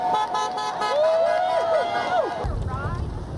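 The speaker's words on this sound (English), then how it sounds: "waved as drivers honked car horns in support" Drivers honk car horns in support of street demonstrators singing patriotic songs, drawn-out horn toots sounding at moderate distance over traffic and wind, with voices in the background.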